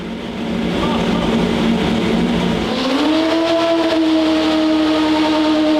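A manual C8 Corvette drift car roars steadily on a dyno, its loud, close engine note rising in pitch partway through a throttle sweep and then holding high and sustained.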